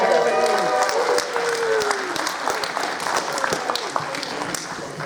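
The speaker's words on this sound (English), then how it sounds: "So give everyone a round of applause to Jeremy Graves from Mango." At an anime convention industry panel, the audience breaks into loud, sustained applause for a guest from a company called Mango, many hands clapping close by while a voice briefly talks over the start.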